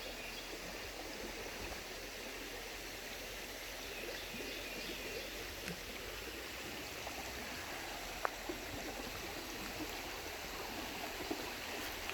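Crooked Creek in Ouachita National Forest flows with a constant, broad rushing and babbling, steady and moderately close, with a few faint clicks and a distant bird behind it.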